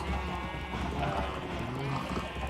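Sheep bleat over a dense, constant background of Minecraft game ambience, with murmuring voices mixed in.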